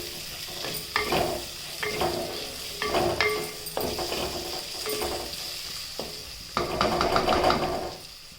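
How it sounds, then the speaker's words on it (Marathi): Tomato pieces sizzle and fry in an oily pan while being stirred, a steady hiss punctuated by repeated scraping strokes of a spoon, close and moderately loud, with no talking. "टोमॅटो टाकून घ्यायचा. चांगलं भाजायचं."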